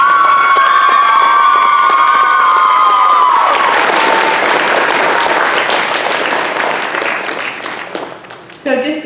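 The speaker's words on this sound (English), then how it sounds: "So I would just like to give Chief another great big round of applause." An elementary school crowd at a DARE graduation applauds the police chief, with loud clapping and cheering that swell in as a voice finishes speaking and continue for several seconds before tapering off.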